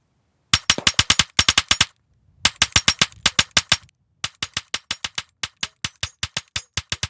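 Springfield Prodigy pistol firing in rapid strings of sharp, loud shots, each burst several rounds long and separated by short pauses, with no talking.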